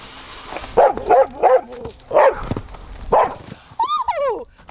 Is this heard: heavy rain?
no